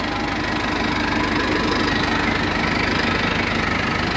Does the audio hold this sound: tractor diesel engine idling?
yes